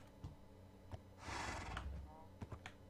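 A horse in Minecraft lets out a brief, quiet whinny, a rough breathy burst in the middle of the moment, with soft clicks and key taps around it.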